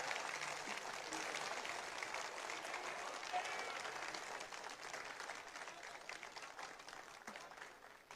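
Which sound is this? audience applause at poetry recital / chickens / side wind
audience applause at poetry recital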